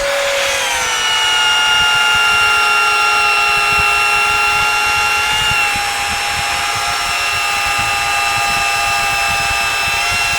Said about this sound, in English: this setup right here for us makes us drill everything square